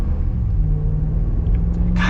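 Steady low engine rumble from a Ram 1500 pickup's 5.7-liter Hemi V8 under light acceleration, heard close and continuous with no talking.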